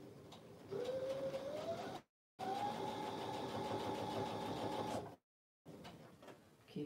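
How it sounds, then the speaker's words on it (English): A sewing machine stitches close along the outer edge of a quilt block, giving a steady mechanical whir that runs in two bursts with a short pause between them, then starts again briefly. "I'm going to stitch real close to that outer edge."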